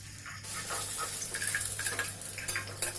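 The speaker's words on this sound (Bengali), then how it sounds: "এবার বড়া ভাজার তেলেই আলুগুলোকেও একটু লালচে করে ভেজে তুলে নেব।" Potatoes fry in oil left over from frying lentil fritters, giving a bright crackling sizzle close by, with scattered clinks and scrapes of a utensil in the pan.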